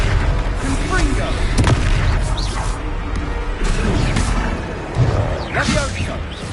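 Fire-blast spell explosions and combat effects from Hogwarts Legacy, heard as dense, loud crashes and booming bursts layered with whooshes and a shouted voice, with several sharp impacts across the stretch.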